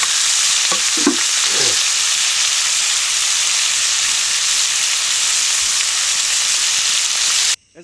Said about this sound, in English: It took us a few minutes to fry the squid on the pan.